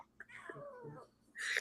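A cat gives one drawn-out, wavering complaining meow, close and fairly faint, followed by a brief burst of hissy noise.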